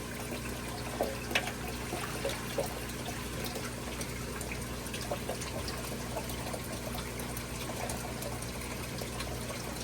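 Water poured and trickling from a container into a grow-out aquarium holding baby plecos, a continuous close splashing dribble with a few brighter splashes over a steady background hum.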